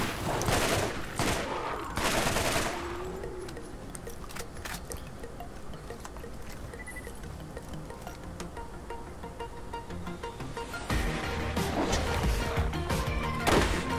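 Video game weapons firing in rapid volleys, with dense bursts of shots at the start and again toward the end and quieter crackling between, alone without talk.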